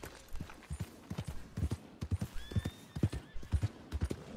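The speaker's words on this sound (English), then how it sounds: "stupid horse" Rhythmic hooves clip-clop steadily while a horse whinnies partway through, close and clear with no talking, from a horse in the video game Red Dead Redemption II.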